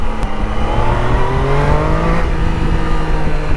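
A new Triumph Daytona 660 motorcycle, still in break-in, has its engine revved on the throttle, producing a loud close droning whine whose pitch climbs and settles in repeated sweeps.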